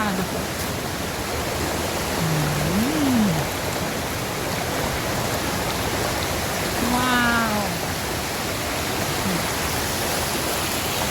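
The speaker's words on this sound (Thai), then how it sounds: "ให้ฟังเสียงน้ำไหลแล้วกันค่ะ" Steady broadband rush of falling water at Hua Chang waterfall in Thailand fills the clip, with a few brief exclamations from a person nearby.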